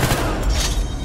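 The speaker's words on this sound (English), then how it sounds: "Frag grenade out!" A frag grenade blast in the Battlefield Hardline video game, one loud booming explosion with a rumbling low-end tail lasting about a second.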